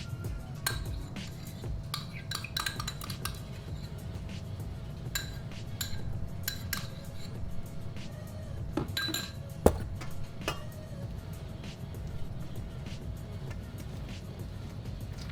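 Homemade coleslaw of thin and chunky cabbage slices being stirred with mayonnaise in a bowl, giving soft, steady squelching with frequent utensil clinks against the bowl, plus one sharper knock near the end.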